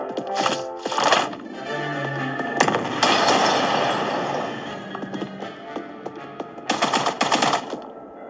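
Gunfire from a mobile sniper shooting game, loud bursts of shots in clusters with sharp repeated cracks, short pauses between volleys, alone without speech.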